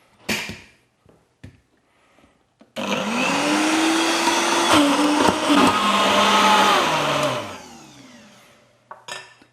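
A blender whirring through tomato pasta sauce with fresh basil, a loud sustained motor roar lasting several seconds that then winds down, set between quieter clicks and handling sounds.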